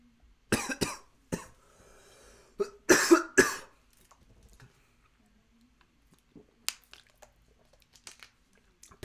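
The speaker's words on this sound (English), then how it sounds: "don't cough" Several sharp, close coughs come in bursts, with a pause and then a few more, followed by quiet stretches with small ticks and faint mouth noises.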